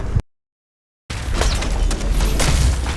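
Rapid multi-cannon fire booms from a video game, a dense, continuous volley of blasts after a brief silent gap.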